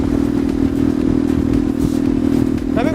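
A BMW R 1150 GS motorcycle with a large boxer engine rides along steadily, its loud, even engine drone close and continuous, with wind and road rumble mixed in.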